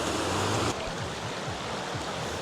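River water rushing steadily just below the Black River Falls waterfall, a loud close broadband roar that drops slightly partway through, with faint sweeping tones underneath and no voices.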